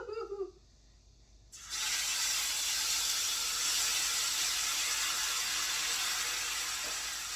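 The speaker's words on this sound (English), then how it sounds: "Now it's ready. And you're going to hear it sizzle." Green chile dropped into hot, ready bacon grease bursts into a loud, steady sizzle after a brief quiet moment, the hiss holding strong and even to the end.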